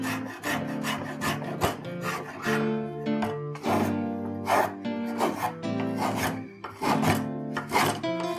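A spokeshave shapes a wooden hammer handle with rhythmic, raspy shaving strokes. Each pass rises and falls in a steady back-and-forth cadence, close up and alone.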